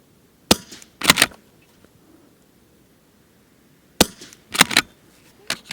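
Shots from a Blaser R8 straight-pull rifle in .22 rimfire firing SK Standard Plus ammunition: five sharp, dry cracks in two groups, each followed by brief clatter, with quiet gaps between and no talk.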